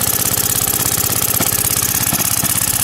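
A Briggs & Stratton Model Y single-cylinder engine with a suction-lift carburetor and loose gas tank runs at its top speed of about 1800 RPM, a loud, steady, rapid chugging beat with a metallic rattle, close by and alone.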